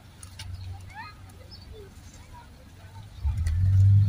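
Pigeons coo faintly in the parking area of a mosque while people toss them grain, with soft bird calls and chirps over distant traffic rumble, and a low engine-like rise at the end.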